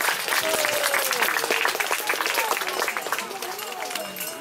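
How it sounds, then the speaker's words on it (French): An outdoor crowd applauds a shepherd and his sheepdogs after a herding demonstration with ewes, a sustained patter of many hands, with voices and brief calls mixed in throughout. "Je pense qu'on peut applaudir le formidable travail et du berger et des chiens."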